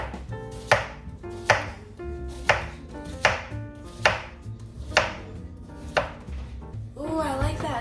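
A knife chops through an onion for vegan ramen in eight sharp, evenly spaced strokes, each close and crisp, with a softer rustle at the end.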